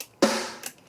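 A single cracky one-shot snare sample from a game soundtrack drum kit, struck once with a sharp bright attack and a short ringing tail, followed by a faint second tap, alone.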